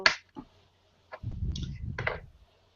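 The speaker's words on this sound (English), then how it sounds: "It claps its little hands." A small creature in a video game claps its little hands, giving a few short sharp claps separated by pauses, then a louder burst of clapping set against a low rumbling background.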